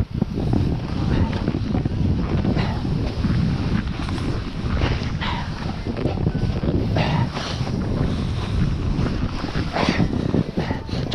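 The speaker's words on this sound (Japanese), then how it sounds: "オモパウダー、この音でわかるでしょ、これ。" Skis carving through heavy, wet, shallow powder on mogul runs at Dynaland ski resort, a steady broadband hiss and rush with wind buffeting the microphone throughout, close and continuous.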